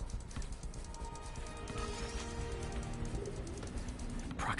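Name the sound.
pigeon carrying a spider bot in the video game Spider-Man PS4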